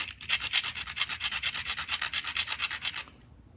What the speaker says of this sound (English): I'm going to go ahead and try and scuff the Cortex badly.